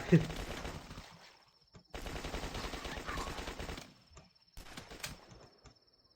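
Bursts of rapid gunfire from The Last Stand video game, loud repeated volleys with brief gaps between, a faint voice in the background.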